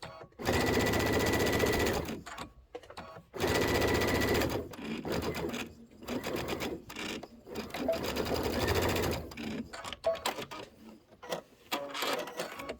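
Sewing machine stitching out a Kimberbell Sweet Land of Liberty pillow, running in several long, loud bursts of rapid, steady needle chatter with short pauses between them.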